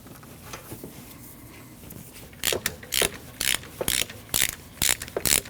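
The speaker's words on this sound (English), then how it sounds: "To remove your spark plug, you need a long 9/16 socket like this." A ratchet with a long 9/16 socket loosens a spark plug on a 2012-2021 Nissan NV2500 van. After a quiet start comes a close, loud series of about a dozen rhythmic ratcheting clicks in quick bursts, with no talking.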